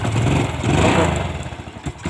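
Motorcycle engine revved hard after the throttle is opened, a loose spark plug thread under repair; a loud, rough mid-pitched roar rising and holding for about two seconds with uneven pulsing near the end.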